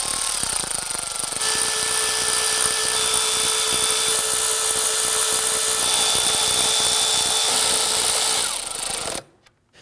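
A power tool whirs continuously at high speed with a steady buzzing pitch, running down intake bolts on a 3.5L V6 Ford Taurus, close and loud for about nine seconds before stopping abruptly.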